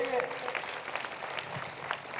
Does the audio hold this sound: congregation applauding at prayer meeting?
yes